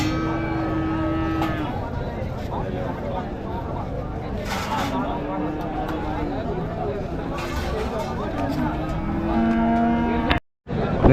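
Cattle at a weekly livestock market in Madrapalli, including large dairy cows, lowing several times over a busy din of crowd chatter and passing vehicles, with people talking close by throughout.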